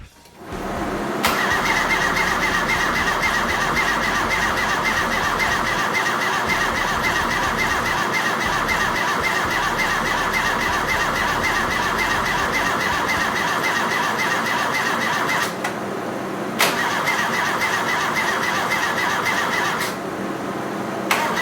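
Starter motor steadily cranking the engine of a 1985 Toyota Tercel 4WD without firing, a loud, continuous, close whirring drone that breaks off briefly and then resumes.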